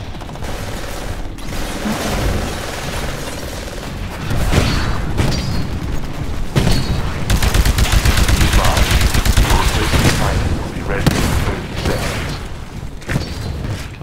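Loud, near-continuous automatic gunfire and heavy booms from the Titanfall video game on Xbox One, coming in dense, overlapping bursts with short lulls between volleys.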